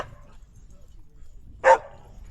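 A single short bark rings out from one of the sled dogs being readied for a Montana distance race in the snow, alone against a low, quiet background.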